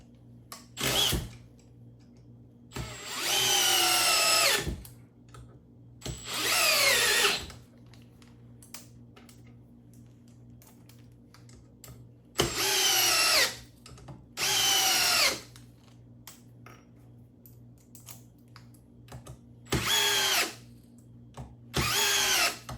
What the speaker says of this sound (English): Got my drill ready